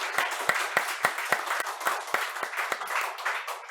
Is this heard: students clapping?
yes